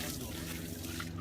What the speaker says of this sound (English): So this is the local tap, fresh water from the mountain.